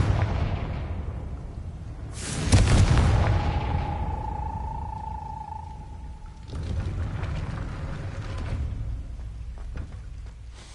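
A sudden loud booming blast from the Confringo spell in Hogwarts Legacy, followed by a lingering ringing tone and low rumble, then a second, softer burst of crackling debris.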